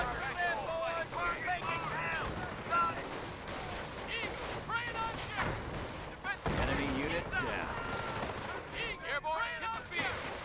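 Mortar blasts and rattling gunfire in the World War II strategy game Company of Heroes, repeated shots and booms throughout, mixed with frequent in-game voices calling out.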